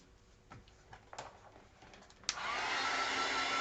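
A hair dryer switches on and roars steadily at close range, drying paint on a mixed media tag made with black gesso and Art Alchemy paints, after a few soft handling taps and rustles.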